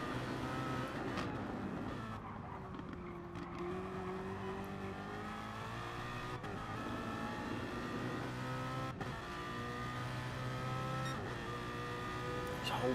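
Gr3 race cars lapping the Nurburgring GP circuit in a racing video game, engines droning and revving with rising and falling pitch as gears shift, steady and fairly loud throughout.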